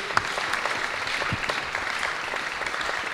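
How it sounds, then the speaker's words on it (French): A room full of people applauds after Sandrine Rousseau speaks at a citizens' hearing, the clapping even and sustained and fairly close, with a few sharper individual claps standing out. "On peut vous applaudir"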